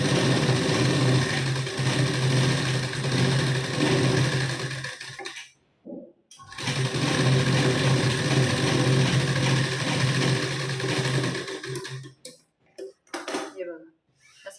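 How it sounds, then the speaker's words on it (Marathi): Close, loud whirring of a sewing machine stitching along a folded blouse hem, running in two long steady bursts with a brief pause between, then short stop-start runs at the end. "इथे मी अगोदर शिलाई देऊन घेते"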